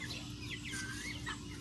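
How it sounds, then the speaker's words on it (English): A backyard rooster named Foghorn gives short, rising clucks and chirps close by over a steady low hum, with no talk. "that is Foghorn, the rooster"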